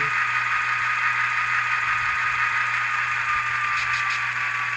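Soundtraxx Econami sound decoder in a model diesel locomotive, its engine rumble holding a steady drone as the throttle notch drops toward idle, a continuous even hum with no voices.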